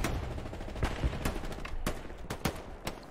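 Rapid bursts of gunfire in the World War II shooter Hell Let Loose, sharp repeated shots at an uneven rhythm over a steady battlefield din, some cracks louder and closer than others.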